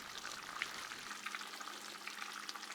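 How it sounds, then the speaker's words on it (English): Creamy Tuscan chicken sauce with bacon simmers uncovered in a pan, giving a faint, steady bubbling hiss with soft crackles throughout, no voices. "we're in our last 2 minutes now of just letting it kind of cook down"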